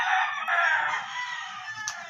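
Rooster crowing once nearby, a loud drawn-out strained call that fades off over about two seconds.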